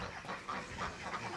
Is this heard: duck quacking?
yes